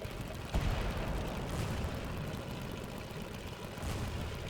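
Tank guns firing in the World of Tanks video game, a dense rumbling barrage of muffled blasts over a low engine drone, with one sharper shot near the start.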